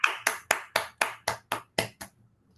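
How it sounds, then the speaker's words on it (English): Nine sharp, evenly spaced claps ring out at a graduation day ceremony, close and fairly loud, slowing slightly before stopping into quiet. "So a big round of applause to all of you for completing."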